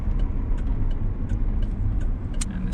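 A truck with a rough-sounding transmission drones and rumbles steadily up close, a low mechanical whine with faint intermittent clicks and no talk.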